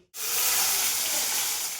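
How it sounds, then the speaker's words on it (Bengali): Cauliflower florets hit hot mustard oil with a sudden, loud, steady sizzle that starts abruptly and holds as a bright hiss throughout, with no voices. "এবার তেলে দিয়ে দেবো ফুলকপিগুলো।"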